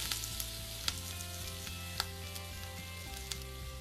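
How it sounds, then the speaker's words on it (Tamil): Whole spices dry-roasting in a pan for crab masala, including fennel seeds, cinnamon, cloves and stone flower, give a continuous close sizzle and crackle marked by a few sharp ticks of stirring. "இதை நல்லா நம்ம வறுத்துக்கணும்."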